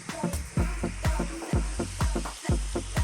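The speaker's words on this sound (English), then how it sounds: "now what I'm going to do is cook this with this lid off" Beef curry frying in an open pan with the lid off, sizzling steadily up close, with a regular stirring rhythm of scrapes about every half second.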